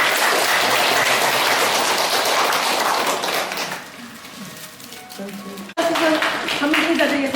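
Seniors' college graduation ceremony applause: a dense, loud round of clapping from a seated audience that fades after a few seconds into quieter room sound and voices.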